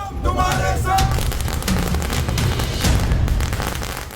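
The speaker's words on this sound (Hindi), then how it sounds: "सड़कों पर फूटती पटाखों की ये लड़ियां" Strings of firecrackers crackle and pop in rapid, dense bursts on the streets of Delhi during election celebrations, loud and continuous, with crowd noise mixed in.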